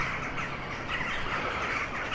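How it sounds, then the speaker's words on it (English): Jackdaws and carrion crows roosting outside a bedroom window squawk and caw over one another in a dense, continuous chorus that is loud and close with no pauses and no talking. "we have these roosting jackdaws and carrion crows right outside my bedroom window"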